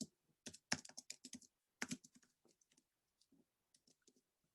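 Someone types a message on a computer keyboard in Canva, producing rapid, close key clicks in a dense run that thins into sparse, quieter taps.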